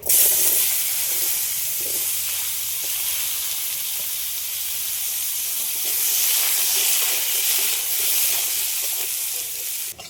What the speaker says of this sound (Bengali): আলুটা ভেজে নেবো এই মাছ ভাজা তেলের মধ্যেই দিয়ে দিচ্ছি